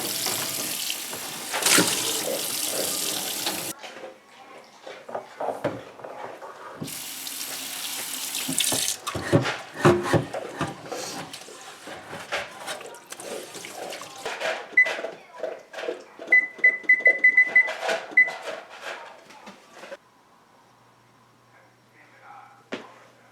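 Tap water runs loudly over a cast iron pan being washed at a sink, with a steady rushing stream broken by clatter and scrubbing, then quieter splashes toward the end.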